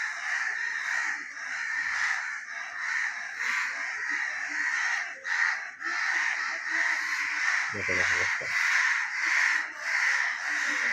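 A crow cawing repeatedly outdoors near a cat that has caught another crow, harsh loud caws in a continuous run with brief gaps, close and prominent, with a faint background voice.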